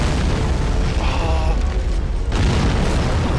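In the war game Army Men of War, a Nebelwerfer rocket barrage explodes as a heavy, loud, sustained roar of booms and blasts with a short dip in the middle, alongside faint voice.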